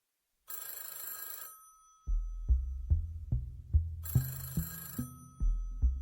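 An old-style telephone bell rings in two bursts, each answered by a deep throbbing pulse pattern, sounding as a dramatic sound effect in otherwise quiet surroundings.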